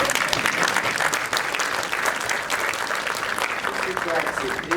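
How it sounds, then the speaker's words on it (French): A crowd applauds at a political gathering with the president present, a steady dense wash of many hands clapping at moderate distance, continuing evenly throughout. "j'espérais que vous applaudirez pour ceux qui ont accepté"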